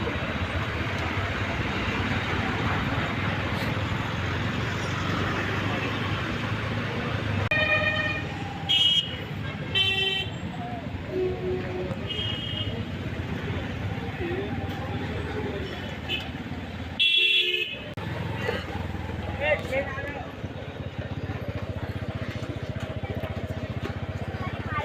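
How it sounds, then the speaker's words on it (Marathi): Heavy traffic backed up on the Manmad bridge in India, a steady broad road rumble with several short horn toots from large vehicles around the middle, close and loud, with voices talking over it. "मनमाडच्या पुलावर सध्या ट्रॉफिक जाम व्हायला लागला."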